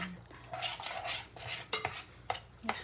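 Onion being stirred in a frying pan, with scraping and clinking of a utensil against the pan in short bursts, fairly close and with no talking.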